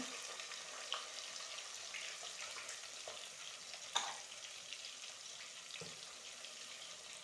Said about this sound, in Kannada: ಇದೊಂದು ಸ್ವಲ್ಪ ಫ್ರೈ ಮಾಡ್ಕೊಳ್ಳೋಣ ಈರುಳ್ಳಿನ